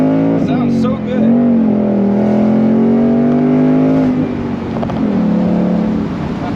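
A powerful V8 engine in a 2021-22 Ford Mustang GT convertible with manual transmission pulls hard, its pitch climbing through the gears and then dropping at a shift, loud and close, with some talk over it.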